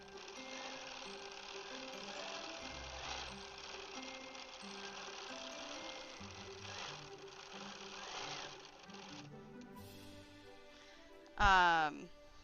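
A Bernina 790 Pro sewing machine quilting, its fast, even needle chatter running steadily through the stretch, with a sharp whirring burst near the end.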